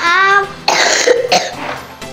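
A run of loud, harsh coughs follows a short tonal voice sound, several rough bursts in close succession, up close in an indoor comedy sitcom scene.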